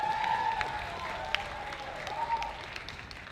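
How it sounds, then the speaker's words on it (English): An audience claps for a music cast at a cultural event, with a thick, even spread of applause over a sustained tone and a few sharper individual claps standing out. "Let's have one more round of applause."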